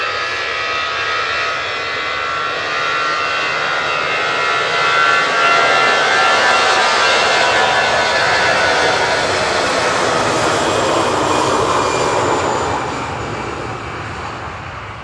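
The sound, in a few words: EasyJet airliner departing Manchester Airport to Nice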